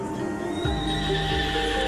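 A horse neighs in the video game Honkai Star Rail, a short whinny sliding downward over a dense background of game ambience and layered music.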